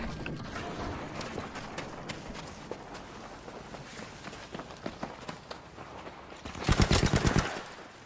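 Gunfire in the Battlefield V Firestorm battle royale video game: a steady crackle of distant shots and footsteps throughout, then a loud close burst of rapid automatic fire near the end.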